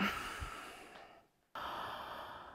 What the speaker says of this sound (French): On prend quelques profondes respirations ici, respiration Ujjayi.